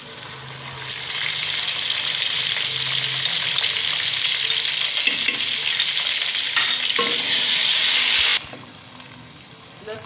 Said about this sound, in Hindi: लहसुन और अदरक को मैंने ये देखिए थोड़ा सा भून लिया।